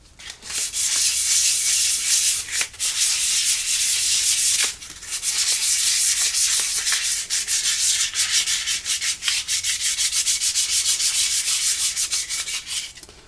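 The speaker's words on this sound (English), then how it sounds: "Just a real light sanding." Continuous light hand sanding of a wooden AK rifle stock with sandpaper, rapid back-and-forth rubbing strokes with a brief pause near the middle, close and fairly loud.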